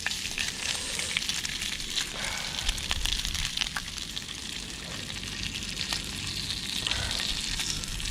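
Bacon sizzling and spitting in a frying pan, probably on a stove aboard a canal boat, with a steady, close crackle and scattered sharp pops throughout, and no talking.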